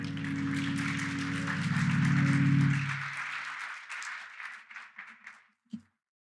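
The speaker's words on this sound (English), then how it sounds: "Another round of applause, please" Audience applause after a musical performance at the UN.BOUND 2024 festival opening, over a sustained musical tone that fades out, leaving scattered claps that thin to a few final hand claps.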